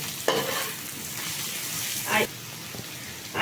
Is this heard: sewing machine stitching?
no